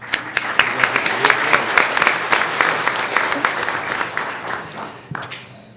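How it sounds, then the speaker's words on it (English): An audience at a joint tribal council meeting applauds a first-place competition winner, producing dense, sustained clapping with sharp individual claps standing out, tapering off near the end. "So that deserves an applause."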